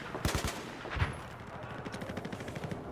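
Gunfire in Battlefield 4 multiplayer on PS4: a few sharp, close shots at the start, then a steady rapid burst of automatic fire rattling on, with no talk over it.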